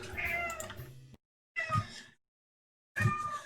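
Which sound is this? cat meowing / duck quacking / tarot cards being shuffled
cat meowing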